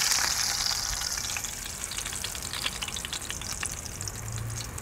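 Flatfish fries crisp in a pan, giving a dense, continuous crackling sizzle with fine spattering pops, steady and fairly close, with no one talking.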